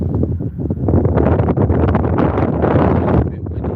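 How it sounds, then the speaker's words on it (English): Gusty wind buffets the microphone in a continuous low roar, rising and falling slightly over a few seconds, with no voices. "It's a bit windy out here"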